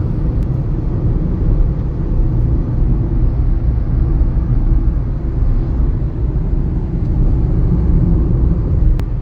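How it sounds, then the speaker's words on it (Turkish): A Skoda Fabia car is driving, heard from inside the cabin as a loud, steady low road and engine rumble that continues without a break. No talking. "Arabamız Skoda Fabia."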